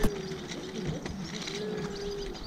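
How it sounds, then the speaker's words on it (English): Birds calling outdoors in the quiet Alpine village of Gimmelwald, Switzerland, with a soft cooing, dove-like call and scattered chirps at moderate distance over faint background ambience. "I hope you can hear the birds chirping sound, which is so relaxing."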